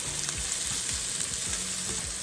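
Pasta in fajita sauce sizzles in a pan under a steady frying hiss, with repeated scraping strokes of a utensil stirring it at a regular pace, close and fairly loud.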